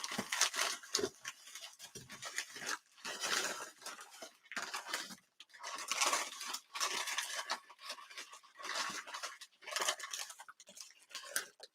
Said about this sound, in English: These are not my fabric scissors.